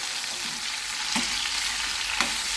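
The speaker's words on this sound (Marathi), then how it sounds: "तर आपण असं वांग फ्राय करून घेणार आहे" Brinjal pieces frying in a pan with cumin and curry leaves, a steady hiss of oil with a few soft stirring knocks, close and unbroken, no speech.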